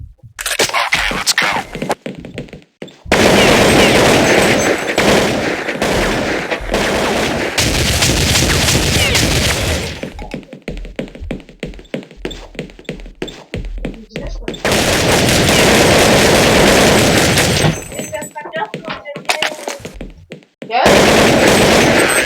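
Gunfire from Counter-Strike 1.6 bursts in long, loud, dense volleys of rapid shots, broken by short pauses and single cracks, with no talking.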